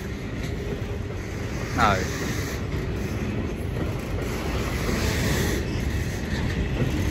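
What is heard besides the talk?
train passing through Ely station on Fen line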